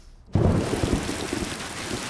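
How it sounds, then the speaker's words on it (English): Heavy rain pours down outside a house with rusted ducts and an overflowing eastern trough and downspout, starting abruptly as a loud, dense, steady hiss with spattering drops and no talk. "It's raining like crazy."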